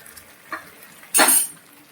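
Paneer posto stirred in a pan after a little water is added: a soft clink near the middle, then a short, brighter scrape of the utensil against the pan.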